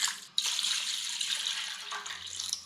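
Water pours steadily into a half-size hotel pan, about half a gallon for a brine, a continuous close splashing rush that starts abruptly and runs without a break.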